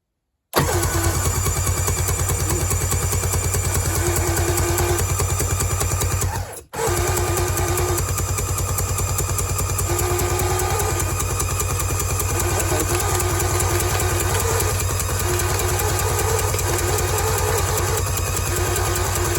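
An old jet ski engine cranks over and then runs, a steady loud mechanical drone that continues alone, with one brief drop partway through before the running resumes.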